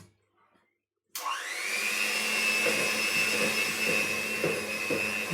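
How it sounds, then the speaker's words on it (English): An electric whisk creaming butter switches on after a second of near silence, then whines steadily at a high, close, loud pitch, rising quickly at the start and holding with slight wobbles. "I'm just using the tip of the whisk to cream the butter"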